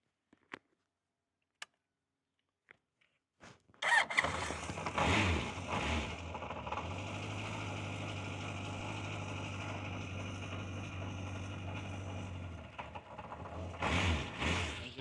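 A Honda CB900F2 Bol d'Or motorcycle engine starts cold after a few mechanical clicks. It catches abruptly and settles into a loud, steady, low-revving idle, close by, with no talk.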